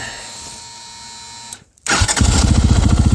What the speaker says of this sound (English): Has to be in neutral to start. It will not start in first gear.